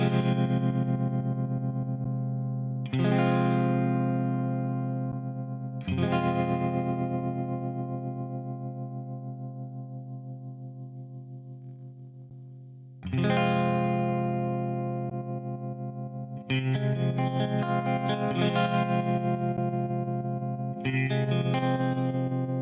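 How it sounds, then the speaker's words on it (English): An electric guitar run through a BOSS MD-500 modulation pedal set for tremolo sounds as struck chords that ring out and slowly die away, followed by a few quicker strummed bursts near the end, all played alone with no talking. "And that is great for spooky tremolo effects."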